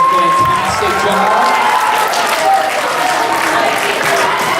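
Students in a school audience applaud loudly, with cheering and children's shouts mixed into the steady clapping, and a voice is briefly audible at the start.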